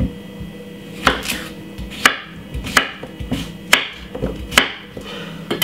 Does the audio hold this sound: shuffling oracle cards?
no